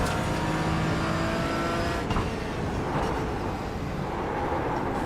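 A Porsche race car engine in the iRacing sim at Daytona during an IMSA Michelin Pilot Challenge race, with a loud, sustained high-revving drone, shifting pitch as it runs, and a brief gear-change break partway through.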